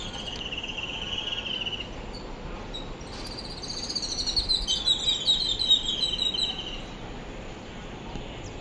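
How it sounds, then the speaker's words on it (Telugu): Birds call from a tree outdoors in the evening, short high chirps and twittering bursts that rise in the middle, over a steady droning chorus of crickets, no talk. "పిట్టల సౌండ్ చూడండి,"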